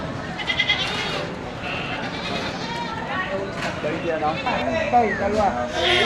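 Goats bleat several times nearby at a goat market, overlapping with people talking throughout.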